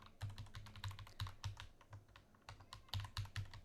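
A Gmail address being typed on a computer keyboard: rapid, fairly even keystrokes clatter in quick bursts with brief pauses, close but quiet, with no talking.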